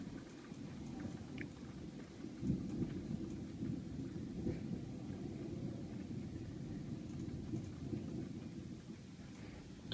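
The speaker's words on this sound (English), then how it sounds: "Here comes the rain." A violent UK thunderstorm fills the air with a dense low roar of heavy rain and distant rumbling thunder, steady throughout, with a couple of louder swells and no speech.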